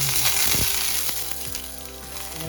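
Cabbage batter fries in hot oil, a close, steady sizzle with a few soft knocks and scrapes from a ladle spreading it thin, and no voices.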